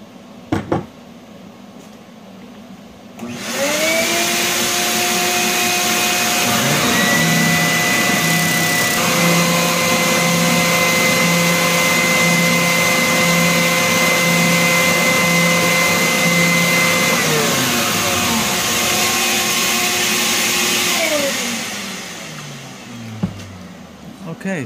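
A power sander working a wooden piece for a homestead cheese press, starting up after a few seconds of quiet and running as a loud, steady motor whine with shifting pitch for about twenty seconds before winding down.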